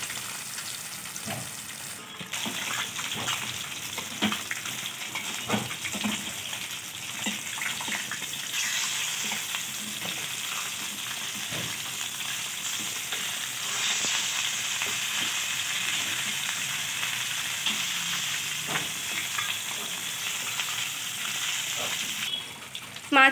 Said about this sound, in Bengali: এবার মাছগুলোকে লাল লাল করে ভেজে নিতে হবে।